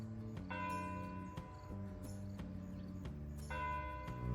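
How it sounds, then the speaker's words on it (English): A theater's church bell rings five minutes before showtime in repeated, overlapping strikes with long sustained tones, fairly loud and resonant, a steady peal without voices. "The theater rings the church bell 5 minutes before showtime."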